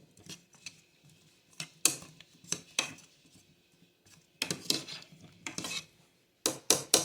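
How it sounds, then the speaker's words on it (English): Red potatoes are tossed with butter, garlic and oil in a pan, with irregular bursts of clattering, scraping utensil strokes against the metal separated by brief quiet pauses, near and fairly loud. "Go ahead and mix it up. Get it all coated in that butter and the garlic and the oils."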